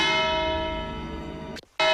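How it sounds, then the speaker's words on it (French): A small bell rings once with a clear sustained chime that fades slowly, cuts out briefly, then a fresh strike sounds loudly. "Tu pousses la petite cloche"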